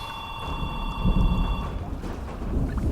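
A telephone rings with steady bright electronic tones through the first second and a half, then stops, leaving room noise with a faint low rumble; no talk is heard.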